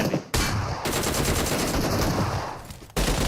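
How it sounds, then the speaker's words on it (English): Rapid bursts of shotgun and automatic gunfire in a PUBG Mobile esports match, loud and continuous with sharp cutoffs at the start and end. "the shotguns are reigning supreme"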